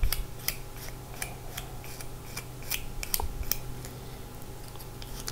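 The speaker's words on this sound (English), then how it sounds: "it's hard when you're doing this size with scissors" Repeated crisp snips of scissors cutting close up, a steady irregular series of short clicks over a low background hum.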